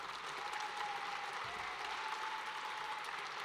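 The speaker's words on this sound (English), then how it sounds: "Let's do a round of applause." Audience applause at a young inventors' state awards ceremony, a steady even clapping that holds for a few seconds at moderate level with no voices over it.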